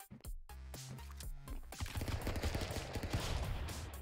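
Gunshots in the video game Stick Fight, heard as a dense, rapid string of loud shots and bursts that runs almost continuously to the end.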